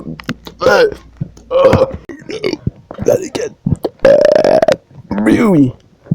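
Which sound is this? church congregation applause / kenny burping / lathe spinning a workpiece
kenny burping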